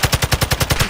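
Rapid automatic gunfire in Call of Duty: Modern Warfare II, about nine evenly spaced punchy shots in under a second, loud and close with no talk over it.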